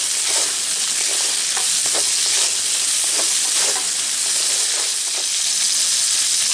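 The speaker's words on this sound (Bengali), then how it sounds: "কুচানো টমেটো, টমেটো যাতে তাড়াতাড়ি একটু গলে যায় তার জন্য একটু লবণ দিয়ে দিচ্ছি।" Chopped tomatoes fry with salt in a hot pan, a loud, continuous close-up sizzle with light stirring scrapes and no voices.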